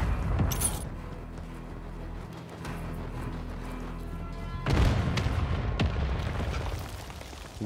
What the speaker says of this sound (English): Mortar strike killed zero people